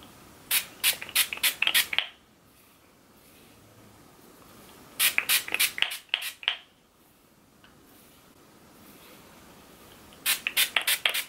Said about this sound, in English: I want to just spray like the front.